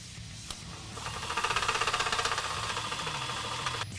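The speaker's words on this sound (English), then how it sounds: "now we're going to drill out this hole on the front crossmember." A power drill grinds steadily through a steel Jeep Wrangler JK front crossmember, its motor droning and rattling at a fairly loud level for several seconds before cutting off.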